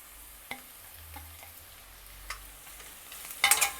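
Grated carrot and palak masala sizzling faintly in a pan, stirred with a few soft scrapes and taps, then a louder spatter of frying near the end.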